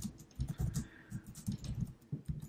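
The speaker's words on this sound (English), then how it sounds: "Now, what if I type in rake db :migrate again" Keys on a computer keyboard typed in quick irregular bursts as a command goes in, close and fairly soft, with no talking.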